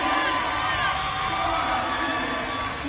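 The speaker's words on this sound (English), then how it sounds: "Listen to the crowd get behind her." A crowd at the Atlas Games CrossFit semifinal cheers and shouts steadily for a woman athlete in her final seconds, a dense, sustained roar with whoops rising over it.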